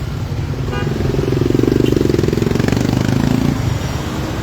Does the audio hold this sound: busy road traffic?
yes